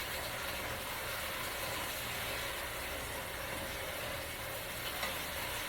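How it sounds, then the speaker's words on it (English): Cabbage and potatoes sauté in a cast iron skillet with a steady, close hiss and sizzle that stays even throughout, with no talking. "Sauteing this, making sure the potatoes are tender."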